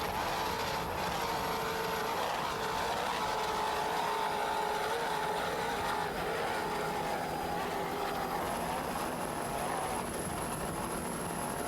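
Offshore racing powerboats at a 1993 Virginia Beach grand prix, including a 33-foot Fountain with twin 600-horsepower engines, roar steadily with a sustained droning whine, loud and continuous with no talking.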